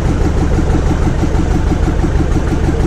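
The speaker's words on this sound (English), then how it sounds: "now they've got to turn the engine on and cruise" A narrowboat's diesel engine chugs steadily nearby, a low, loud, pulsing throb that holds an even rhythm from start to finish.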